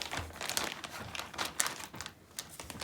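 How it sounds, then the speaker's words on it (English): Close, soft crinkling and rustling of a plastic bag as a wet tie-dyed shirt is pushed inside, with irregular scrunching bursts and no talk. "Take your plastic bag, carefully make sure it's also bunched up."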